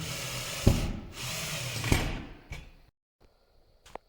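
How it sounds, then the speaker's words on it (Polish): A power drill drives screws through a metal mounting plate for a Ubiquiti UniFi LR6 access point, giving two short, fairly quiet whirring runs with clicks before falling to near silence. "Dokręcamy teraz blachę mocującą."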